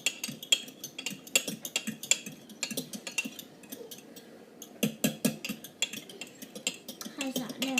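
A whisk clatters against a bowl while chocolate cake mixture is beaten, giving quick irregular metallic clinks and scrapes with brief pauses. A voice is faintly present now and then.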